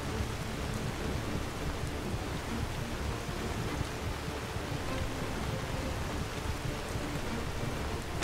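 Loud heavy rain with rumbling thunder in the video game Skyrim, a steady dense downpour hiss with low rolling rumble underneath, continuous and fairly distant-sounding.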